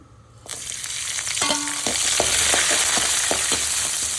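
Onion and green chillies dropped into hot oil after mustard seeds, bursting into a loud, sustained sizzle with rhythmic spatula taps and stirs, no one talking.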